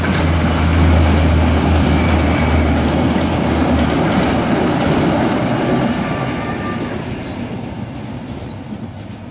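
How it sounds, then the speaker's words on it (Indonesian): A Generation 4 inspection train (KLB) rolls past near Kawaluyaan, a loud, close rumble with rail clatter and a low engine drone that gradually fades as it moves away. "KLB Kereta Inspeksi Generasi 4 yang melintas di wilayah Kawaluyaan"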